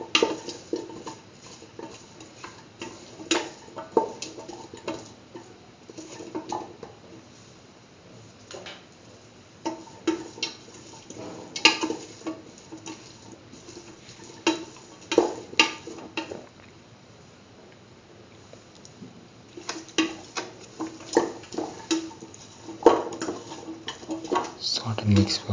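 A beetroot chickpea dip mixture stirred in a pan, with intermittent spoon scrapes and taps against the pan in an uneven rhythm, fairly quiet beneath a person talking.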